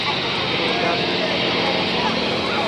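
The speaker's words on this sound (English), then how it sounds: "as is the YAK-52 that now arrives from the left." Yak-52 propeller aircraft arriving overhead at an airshow, a steady loud engine drone filling the air without a break.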